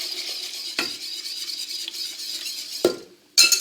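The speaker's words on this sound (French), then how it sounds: "on prend notre chocolat et notre lait. Et on va venir mélanger tout ça." Chocolate and milk stirred together in a pan with a utensil, making soft continuous scraping and swishing, with a few sharp clinks of the spoon against the metal and a louder clatter at the end.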